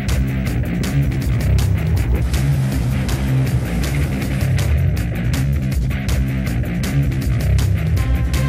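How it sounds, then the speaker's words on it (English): An Isuzu D-Max 4x4 pickup drives over the Paoay sand dunes, its engine a steady loud rumble close by, with rhythmic thumps from the rough ground and no talk. "we are here at the Paoay Sand Dunes to test drive the Isuzu D-max"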